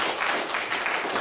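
Audience applause at a university camp lecture: dense, steady clapping from a crowd for about a second, moderately loud and even throughout.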